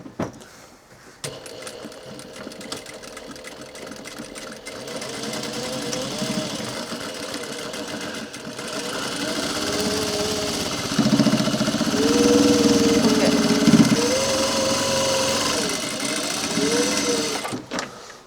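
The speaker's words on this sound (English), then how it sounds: "I'm going to start from the bottom and then hit a 1/4 stitch all the way down" A sewing machine stitches a seam on a workwear jacket, its motor whirring in bursts that rise and fall, with a steady run in the middle and short stops and restarts toward the end.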